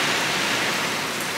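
Steady heavy rain pours down across a backyard during a hurricane, a dense, even hiss with no breaks, close and loud throughout.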